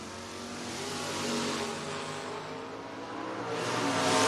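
Drag race between an S10 and a 1990 Mustang, a loud steady engine roar from the cars building slightly in volume, continuous and close, with no talking.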